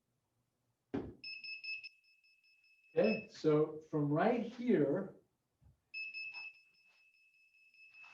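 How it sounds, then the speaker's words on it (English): A radio receiver gives two short, steady electronic beeps as it is switched on, each lasting under a second, with a person speaking between them in a quiet room. "the beep says it's on"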